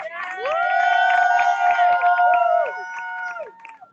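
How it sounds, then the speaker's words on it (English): A crowd at a street march against mask rules cheering and whooping loudly with scattered clapping, with sustained shouted voices rising together and then tapering off. "Can we get a round of applause for them, please?"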